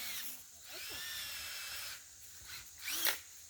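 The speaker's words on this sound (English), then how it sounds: "So you're just drilling a little pilot hole then?" Power drill boring a small pilot hole while a ladder stand is set up: short whining bursts of the motor, with quiet background sounds and brief spoken remarks in between.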